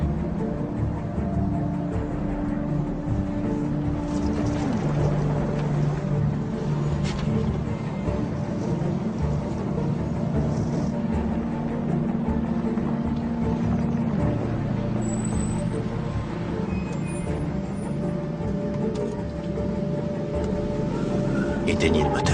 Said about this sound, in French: Éteignez le moteur.